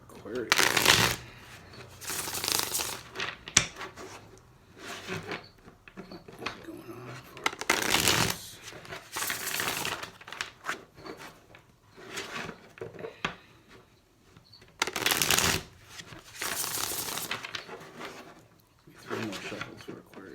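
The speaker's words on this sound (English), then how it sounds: "Three more shuffles for Aquarius." Tarot cards shuffled in repeated bursts of riffling and rubbing, close and fairly loud, with quiet pauses between the runs of shuffling.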